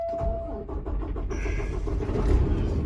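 A 2017 Peterbilt 579 truck with a 500 hp MX13 diesel engine cranks and fires up, settling into a loud, steady low rumble that builds slightly in intensity, with no talking over it.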